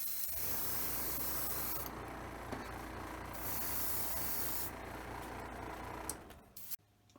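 An airbrush sprays paint onto a 1:1000 TOS Enterprise model, a close, continuous hiss with a rapid buzzing pulse underneath that cuts off abruptly near the end.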